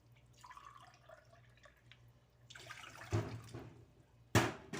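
A cup and a half of water is poured into a pan to make sugar syrup for gulab jamun: soft trickling and dripping, then two sharper splashy gushes, fairly close and moderately loud.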